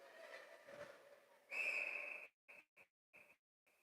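A referee's whistle at a youth ice hockey game: one long shrill blast followed by several short sharp toots, with faint arena murmur beforehand.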